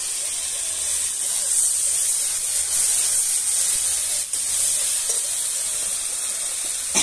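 Chopped banana flower hits hot oil with fried spices, setting off a loud, steady hiss and sizzle close up, with occasional scraping stir sounds over the continuous frying.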